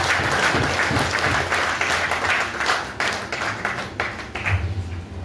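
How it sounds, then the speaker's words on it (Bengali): An audience claps steadily after a speech introduction, a dense, loud round of applause that carries on without pause and fades slightly toward the end. "তালি চলমান থাকবে।"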